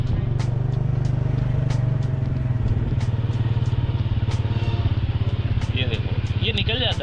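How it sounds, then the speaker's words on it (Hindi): A motorcycle runs along a clean city street in Bangkok with steady engine drone and rattle, close and loud, while other traffic moves nearby and a voice talks over it. "ये देखो, ये निकल जाता है बाइक से"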